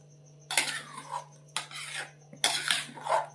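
Daliya being stirred in a pan, three bursts of close scraping spoon-on-metal strokes separated by short pauses, over a low steady hum.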